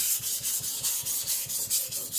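An IKEA Chinese cleaver is drawn across a 400 grit whetstone in steady back-and-forth strokes, about a dozen evenly spaced rasping scrapes, close and alone.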